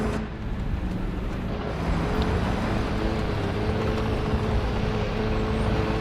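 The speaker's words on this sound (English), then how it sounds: "That's a very loud engine." A loud tank engine in the video game War Thunder, a continuous heavy rumbling drone at constant volume with no talk.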